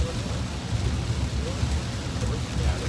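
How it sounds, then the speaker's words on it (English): Heavy rain pours down during a thunderstorm in Minnesota or Wisconsin, a dense, loud roar drumming on a vehicle, steady throughout with low rumbling underneath. "There's just so much rain coming down, I can't keep it off the window."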